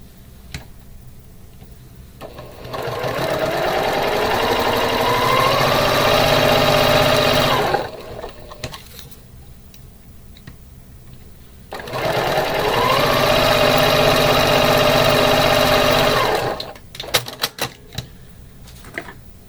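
A sewing machine stitches quilt pieces together in two long steady runs, close and loud, separated by short pauses with light handling noise.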